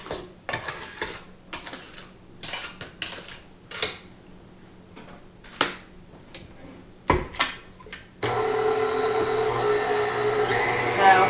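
An electric mixer beats butter and sugar cookie dough: first intermittent clattering bursts and pauses, then a loud, continuous whirring roar once it is switched to high speed.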